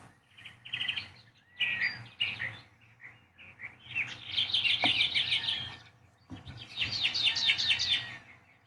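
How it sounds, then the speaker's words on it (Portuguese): Small birds sing outdoors in bursts of bright chirps and trills. Short phrases are separated by brief pauses, and the calls grow busier and denser toward the end, with no voices. "vamos aproveitando o canto dos passarinhos, acalmando o nosso coração"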